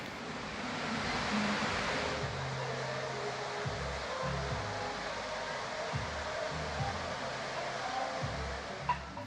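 Tegenungan Waterfall near Ubud in Bali, a steady broadband roar of falling water, continuous and moderately loud, with low rumbling and faint wind-like noise and no voices.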